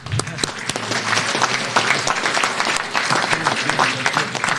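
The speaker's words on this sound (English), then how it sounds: "Round of applause for that one." Audience applause fills a hall of fame induction ceremony for university athletics, steady and dense for the whole stretch, with scattered voices murmuring underneath.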